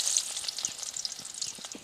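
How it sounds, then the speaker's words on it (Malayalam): Chopped shallots dropped into hot ghee crackle and sizzle loudly and briskly for a couple of seconds, close up, with no talk. "നെയ്യ് നന്നായിട്ട് ചൂടായ ഇനി നമുക്കതിലേക്ക് അരിഞ്ഞു വെച്ച ചെറിയ ഉള്ളി ഇട്ട് കൊടുക്കാം."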